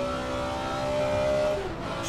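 A BMW M1 Procar race car engine in a racing simulator game holds a steady, loud, harmonic drone, pitching slightly down near the end as the revs fall, with no voices over it.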